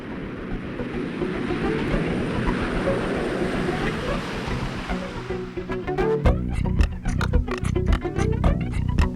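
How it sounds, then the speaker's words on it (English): Aircraft engines roar in reverse thrust as a plane lands on an Antarctic landing strip near Mt Vinson, a loud, sustained broadband rush that gives way to rattling, clattering cabin noise as the plane slows. "the engines must be thrust into reverse"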